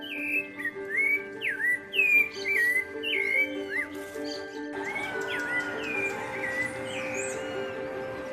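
Several male rufous-bellied thrushes sing in an urban park during the breeding season, repeating clear, fluting whistled phrases at a steady pace, some near and some farther off, over a low background hum.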